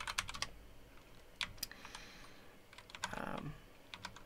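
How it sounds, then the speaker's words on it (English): Quick, irregular keystrokes clatter on a computer keyboard up close, in bursts with short pauses, with one denser run of typing near the end and no talking. "that's my keyboard"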